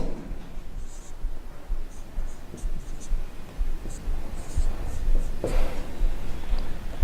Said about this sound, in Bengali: আমি কয়েকটা সংকেত লিখছি, দেখো।